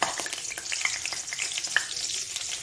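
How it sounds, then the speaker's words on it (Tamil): Dried red chillies and curry leaves dropped into hot oil sizzle and crackle steadily, with sharp pops and spoon scrapes, close and alone. "எண்ணெய் ஹீட் ஆயிடுச்சு, 3 நம்பர் வரமிளகா போட்டுக்கலாம்."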